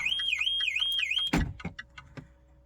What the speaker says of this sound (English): I've set the alarm off.